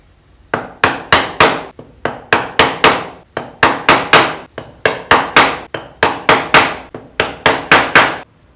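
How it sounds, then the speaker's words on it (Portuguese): A wood chisel tapped to mark the outline of a rustic wood carving, its flat side cutting 1–2 mm deep. Sharp, loud, close strikes land in quick bursts of three or four, separated by short pauses, with no talking. "Nós vamos usar o lado reto do formão, como você já sabe. Vamos marcar 1 ou 2 milímetros."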